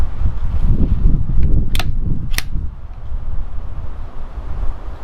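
Strong wind buffets the microphone outdoors at a rifle range, a loud rumbling gusty roar that rises and falls throughout, with two sharp brief cracks cutting through early on.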